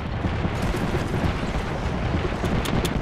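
Cluster explosives detonating in the video game Apex Legends, a dense, continuous rumble of overlapping blasts that fills the whole stretch at steady loudness, with a few sharper cracks near the end.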